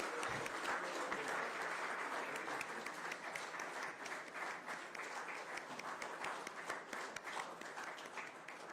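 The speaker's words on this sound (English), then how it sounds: "Let's keep the applause going, ladies and gentlemen." A crowd at the Social Entrepreneur of the Year Award ceremony keeps up sustained, even applause for awardee Madhura, many hands clapping steadily throughout with little change in intensity.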